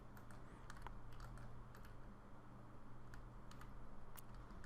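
Computer mouse clicks while unwrapping a 3D model in Maya: faint, sharp clicks arriving in quick pairs, repeated several times over a steady low hum.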